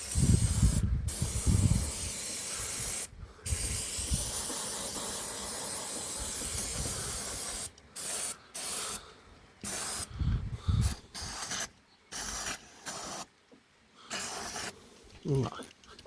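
Aerosol spray hisses in long continuous bursts, then in shorter stop-start squirts, close and fairly loud, with faint talk and handling noise around it.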